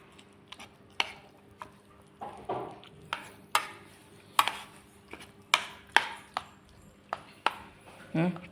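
Curd being mixed into cutlet in a bowl, a series of sharp, close taps and scrapes of a spoon repeating at an irregular pace over faint background noise.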